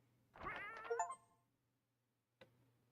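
A cat in the survival video game 60 Seconds gives a single faint, drawn-out meow, followed by silence and a brief soft click.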